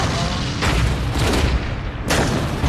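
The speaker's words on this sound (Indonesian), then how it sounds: "Chris meminta pasukannya untuk melakukan serangan balik menggunakan senjata pelontar granat" Grenade launchers fire in a battle between US troops and Taliban fighters, giving loud, dense booming blasts that roll together into a continuous rumble, with fresh bursts near the start and again near the end.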